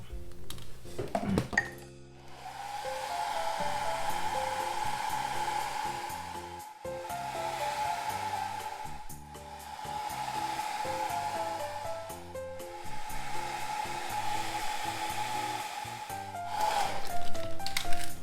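Hair dryer blowing on fresh paint, a steady whining airflow with a hum that runs for long stretches, briefly cut off and restarted, with small clicks and handling noises around it.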